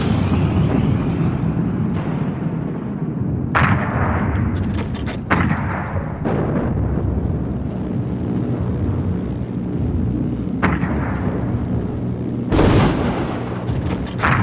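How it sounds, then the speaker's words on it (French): Flak anti-aircraft guns opening fire on bombers during the August 1943 Schweinfurt raid: loud, dense booms and blasts one after another over a constant low roar, with no talk. "Les canons de la FLAC ouvrent le feu sur les bombardiers"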